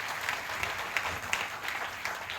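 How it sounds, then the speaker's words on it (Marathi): An audience claps at a political rally in Kolhapur, a dense burst of many hands applauding with a steady patter and a few sharper claps standing out, moderately distant. "जरा सगळ्यांनी टाळ्या वाजवून या अभियानाचं स्वागत करा."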